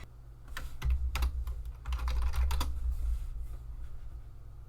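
Rapid bursts of typing on a computer keyboard at a Linux terminal, keys clattering in irregular clusters over a steady low hum, close and fairly quiet with no voices.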